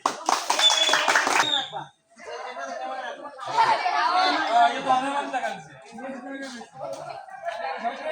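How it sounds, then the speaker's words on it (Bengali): A group claps for a player's score in a party challenge game, where a ball tied to a string is used to knock over soft drink bottles. A short burst of applause opens, followed by lively chatter, voices and light laughter. "তার জন্য একটা হাততালি"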